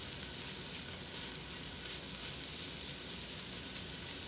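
Onions and garlic frying in a pan for a prawn curry, giving a steady, even sizzle that stays constant and close with no talking.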